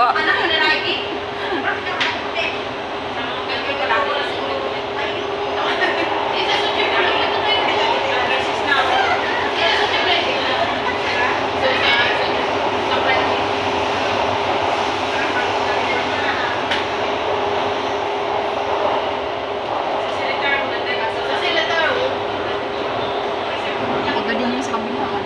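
Train rolling through a long tunnel, a steady loud rumble and roar with a constant hum and faint rattling, continuous for the whole stretch, with people's voices faintly mixed in.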